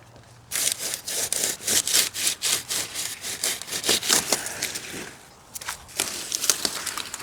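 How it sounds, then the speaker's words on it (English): A handsaw cuts down Swiss chard plants at an allotment: close, loud, rapid back-and-forth strokes with a crisp, fibrous rasp, steady for about five seconds, a brief pause, then a few more strokes. "I'm going to saw it all down. I brought my handsaw and we are going to get rid of it today."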